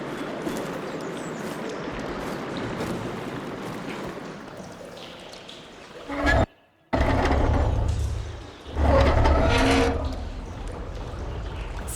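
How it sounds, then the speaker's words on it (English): In the video game Horizon Forbidden West, water rushes and streams through a room after a valve is opened, a steady wash that cuts out briefly and then surges back louder. "Aloy, I can hear water in the room again."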